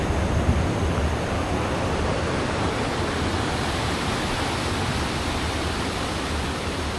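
Mountain water rushing strongly through a cave tunnel, a dense continuous roar that stays loud and unbroken throughout with no voices.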